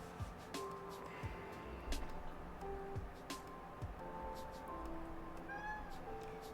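Cats meowing repeatedly during a League of Malta esports match broadcast, several clear close meows and mews over a few seconds under a steady background hum.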